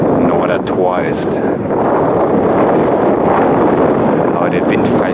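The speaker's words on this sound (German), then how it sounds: "Aber der Wind pfeift hier" Strong wind on the North Sea coast near Norddeich roars steadily into the microphone with heavy, continuous buffeting, loud throughout during an outdoor bicycle ride.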